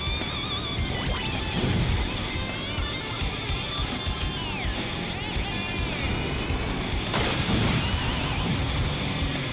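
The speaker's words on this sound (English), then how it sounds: "There was actually like a glass breaking sound effect." Glass shatters and crashes amid vehicle combat in the Twisted Metal 4 video game, a loud burst rising over dense engine roar, gunfire and music that run steadily throughout.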